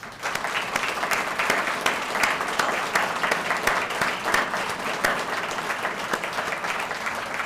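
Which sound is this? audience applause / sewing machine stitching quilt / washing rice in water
audience applause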